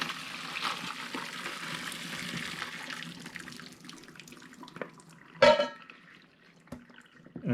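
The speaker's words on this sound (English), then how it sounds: "Just drain out the water" Boiling water from blanched broccoli is drained into a sink, giving a soft running, splashing wash with a sharper clatter midway, heard close and alone without talk.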